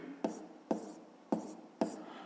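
Soft, close pen strokes scratch a notebook page while a fifth-grade math problem is written down, four short marks with small taps, faint and alone.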